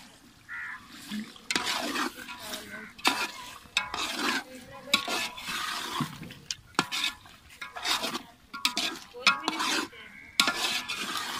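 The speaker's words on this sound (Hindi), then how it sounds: "अभी इसमें थोड़ा दही मिक्स करेंगे" Yogurt gets stirred into chicken frying in biryani masala, a spoon scraping the pot in repeated rough strokes over a low sizzle, close and uneven, with no speech.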